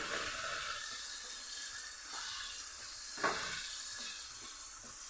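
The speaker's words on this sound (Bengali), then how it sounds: "কিছুটা নুন একটু হলুদ গুঁড়ো দিয়ে আমি আলুটা ভেজে নিচ্ছি" Potatoes sizzling in a wok with salt and turmeric, a steady broadband frying hiss throughout with a few brief stirring clatters, close and moderately loud, no voices.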